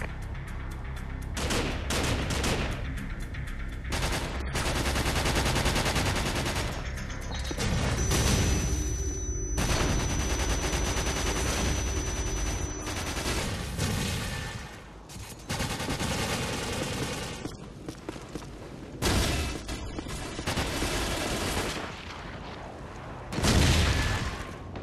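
Sustained gunfire from a Call of Duty Modern Warfare multiplayer match: dense bursts of automatic weapon fire and single shots rattle almost continuously, loud and close, with occasional heavier booms and no voices.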